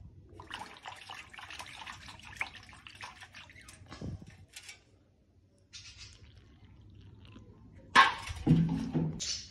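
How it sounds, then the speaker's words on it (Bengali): Water trickles and splashes into a bowl of flour being mixed into a stiff batter, soft and close, with irregular pouring sounds and a louder wet burst near the end. "তারপরে আমি অল্প অল্প করে জল দিয়ে একটা শক্ত ব্যাটার তৈরি করে নেব।"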